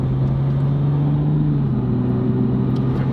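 A tuned Nissan Silvia S15 runs at full throttle with a loud, steady engine drone that climbs slightly in pitch, heard from inside or close to the car with no speech.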